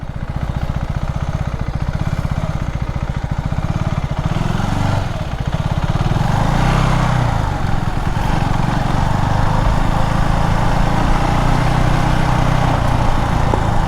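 Engine of a touring motorcycle pulling in first gear, a steady close, rumbling drone with a brief dip in the middle before rising back to a strong, even roar throughout.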